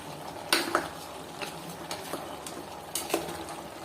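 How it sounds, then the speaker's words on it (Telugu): Cut tomato pieces being stirred into mutton curry in a pot, with sporadic sharp scrapes and clinks of the utensil against the pot over a soft steady sizzle. "కట్ చేసి పెట్టుకున్న టమాటా ముక్కలు, ఇవన్నీ కూడా వేసుకోవాలి. అవన్నీ కూడా కలిసిపోయే విధంగా కలుపుకోవాలన్నమాట."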